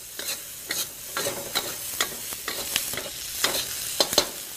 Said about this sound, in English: Now we want to saute the green peppers for